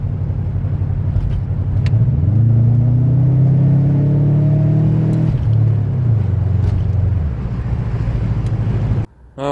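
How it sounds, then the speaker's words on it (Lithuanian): Audi V8 twin-turbo diesel engine running close by, a loud steady idle rumble that rises as the revs climb briefly, holds, then settles back before cutting off near the end. "Audi V8 dizelis, dviejų turbinų"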